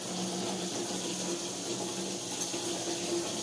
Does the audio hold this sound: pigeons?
no